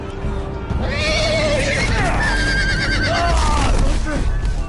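A horse whinnies several times, its rising and falling cries loud and close over dense, noisy game action, with people talking nearby.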